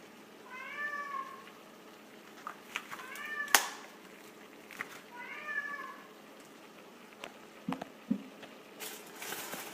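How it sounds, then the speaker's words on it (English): A house cat meows several times in short, wavering cries, faint and somewhat distant, with soft clatter and quiet room noise between calls. "Y'all may hear our crazy cat."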